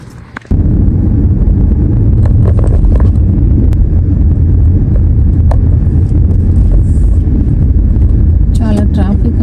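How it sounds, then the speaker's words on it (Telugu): Road noise from inside a car driving through heavy traffic on a cold day on the way to pick up children from school: a loud, steady low rumble with wind buffeting throughout, and a few faint tonal sounds near the end. "చాలా ట్రాఫిక్ ఉంది చూడండి."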